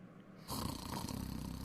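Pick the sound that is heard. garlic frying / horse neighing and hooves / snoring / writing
snoring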